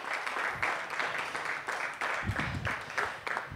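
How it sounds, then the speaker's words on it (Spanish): A crowd claps steadily for a musician at a live home music session, a dense continuous patter of many hands with small surges and no voices over it. "Para él un aplauso"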